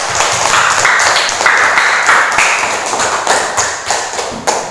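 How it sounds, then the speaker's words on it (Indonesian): Students in a classroom clap together for a classmate, a loud, close, continuous patter of hand claps with uneven bursts running the whole length. "tepuk tangan untuk Ririn"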